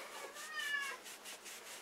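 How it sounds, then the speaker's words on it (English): A cat howling to be let outside gives a drawn-out, faint, wavering meow from somewhere in the background of a quiet indoor room. "you probably hear my cat howling in the background"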